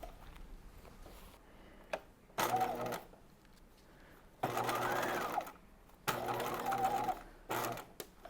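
A sewing machine bastes a bodice front band in short, rapid bursts of stitching, four main runs separated by pauses, close and clear in a quiet room.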